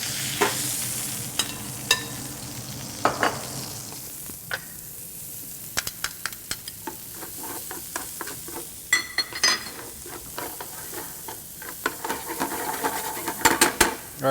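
Paella base frying in a paella pan, a steady soft sizzle under repeated scraping stirs and metallic clinks of the utensil against the pan, close up with no talking.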